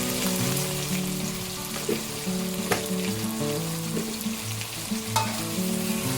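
Sausages stir-fry in a pan with a little sugar, sizzling loudly and steadily while a utensil scrapes and clicks against the pan at intervals, with a soft tonal background hum beneath.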